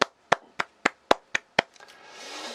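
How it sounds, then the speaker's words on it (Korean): Seven sharp single hand claps close to the mic fall at an even, deliberate pace, followed by a faint rising hiss of room noise. "박수 한번 치고 일단 시작할게요."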